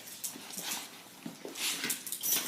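Excited dog whimpering and yipping indoors at a moderate distance, a run of short high whines and squeaks in irregular bursts over a couple of seconds, with no talk.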